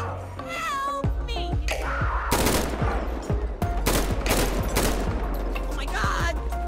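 Rifle shots ring out in the police game mod GTA V LSPDFR during a mountain lion encounter, a series of sharp loud cracks spaced irregularly over steady engine-like game ambience.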